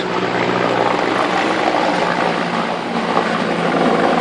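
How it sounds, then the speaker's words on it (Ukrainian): A steady, loud rotor drone fills the air continuously, a helicopter passing nearby with a constant low whir and no pauses. "Ще гелікоптер летить до того всього"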